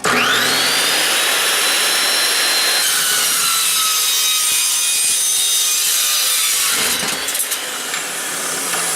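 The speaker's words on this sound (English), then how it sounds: "I'm sure this saw should melt through this pretty quick." A power saw cutting through a 3.5 inch exhaust pipe on a stockcar, loud, close, high-pitched metallic shrieking and grinding that holds steady for several seconds, then briefly changes tone before tailing off.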